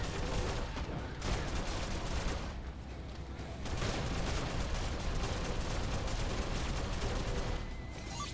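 Dense, continuous sci-fi gunfire crackles loudly through an online shooter match in the Spacelords PC game, a rapid volley of shots with booming impacts that barely lets up across the stretch.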